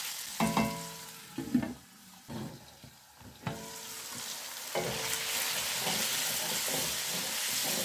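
Chicken pieces frying in a pan, starting with a few stirring knocks and clatters, then settling into a steady, bright sizzle that continues to the end without any talk.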